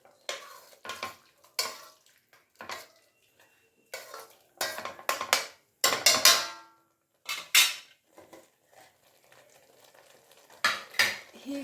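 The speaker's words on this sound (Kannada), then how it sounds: "ಈಗ ಚಂದ ಮಿಕ್ಸ್ ಮಾಡಿಬಿಡೋಣ" A spoon stirs spicy okra gojju in a pan with repeated scraping and clinking strokes, coming in irregular bursts close by over a faint sizzle.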